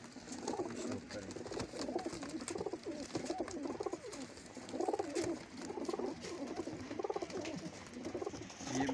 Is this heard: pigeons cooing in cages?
yes